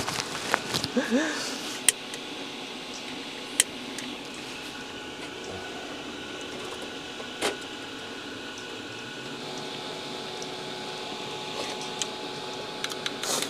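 Inside a parked car set up for camping by a harbor, a powerful exhaust fan runs with a steady, even whir, a constant mechanical hum that stays level throughout with a few faint clicks and knocks.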